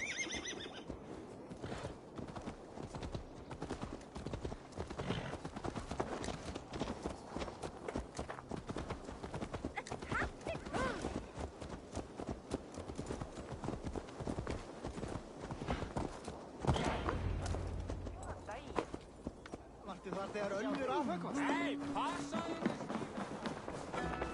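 Horse hooves clip-clop steadily in Assassin's Creed Valhalla, with neighs and whinnies breaking through. The hoofbeats are fairly close and keep a walking rhythm for the whole stretch, over game ambience and music.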